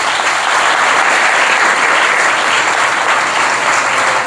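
A church congregation at a Sunday service claps loudly and continuously, a dense, even burst of applause that fills the room for a few seconds.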